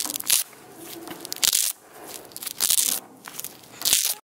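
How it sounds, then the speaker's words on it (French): Shoes making crunching, crackling scuffs in four separate bursts, roughly evenly spaced, close and fairly loud, with nothing else around them. "J'aime le bruit des chaussures."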